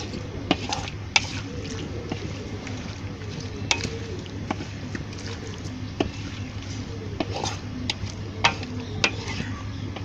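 Chicken karahi being stirred with ground coriander in a pan: repeated scraping and clinking of a spoon against metal over a low sizzle of cooking oil, close by and irregular.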